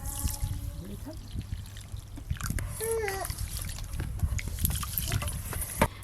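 Water splashes and trickles as it is poured onto Gobindobhog rice in a kitchen, a soft, uneven pour with faint voices in the background.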